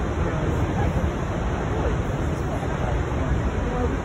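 Ocean waves break at Nazaré beach, a sandy-bottomed surf spot, as a loud, continuous roar of surf and wind-blown spray fills the scene without pause.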